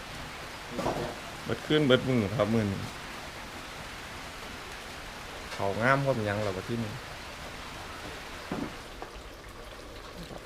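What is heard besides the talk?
rain falling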